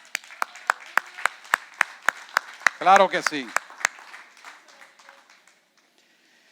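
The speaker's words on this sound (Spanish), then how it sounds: "Es más, denle un aplauso a los jóvenes." Church congregation at a worship service clapping for the young people, sharp even claps in a steady rhythm that fade out after about four seconds, with a brief spoken voice over the middle.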